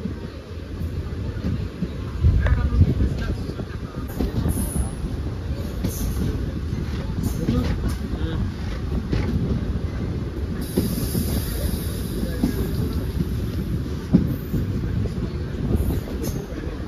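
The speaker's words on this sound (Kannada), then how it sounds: "ಈಗ ನಮ್ಮ ಟ್ರೈನ್ ಬಂದೈತ್ರಿ ಗೋವಾ ರಾಜ್ಯದ ಮೊದಲ ರೈಲು ನಿಲ್ದಾಣವಾದಂತಹ ಲೋಲಿಯಂಕ." A passenger train arriving at Loliem station in Goa, a loud continuous rumble of rolling wagons with wheel noise and some squealing, heard close throughout.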